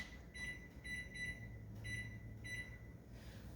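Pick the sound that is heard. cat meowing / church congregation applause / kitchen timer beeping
kitchen timer beeping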